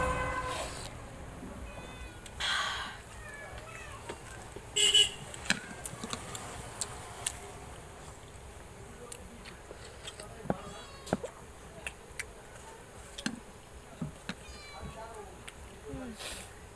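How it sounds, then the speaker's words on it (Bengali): A white cat meows several times in a restaurant during a rainstorm, the short cries fairly close and standing out over light background noise and scattered clatter, with people talking nearby. "সাদা বিড়ালটা ডাকছে তোমাকে মেয়াও মেয়াও করে করে।"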